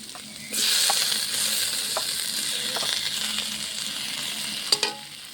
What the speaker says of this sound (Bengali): আলুর মাঝখানে টমেটো কুচিটা দিয়ে দেবো।